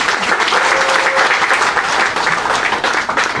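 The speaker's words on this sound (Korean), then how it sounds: "우리 장정기 선생님 박수 한번 쳐주세요" An audience at a mountaineering club gathering claps for a teacher, giving a loud, dense burst of applause that stays steady and close for a few seconds.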